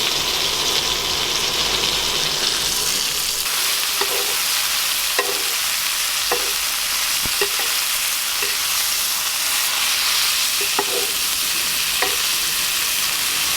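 Steady loud sizzling of garlic cloves, skin on, frying in a pan, with a few scattered clicks and taps of utensils throughout; no voices.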